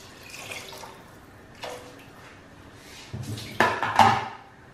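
Water is poured into a cooking pot while making chicken tinola, heard as faint drips and splashes with a few light clanks of the pot, ending in a louder, closer burst of pouring.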